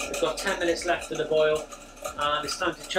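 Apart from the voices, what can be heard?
No everyday noises stand out.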